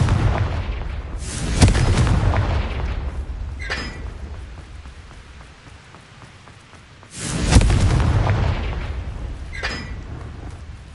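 A Confringo fire spell from Hogwarts Legacy bursts as two loud, roaring blasts spaced several seconds apart, each swelling into a rumbling boom and then fading, with a brief crackle between them.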